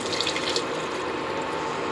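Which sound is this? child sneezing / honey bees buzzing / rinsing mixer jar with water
rinsing mixer jar with water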